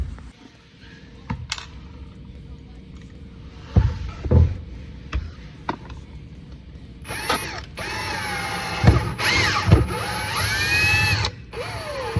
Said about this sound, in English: we're gonna get our screws and we're gonna screw them into these 2 holes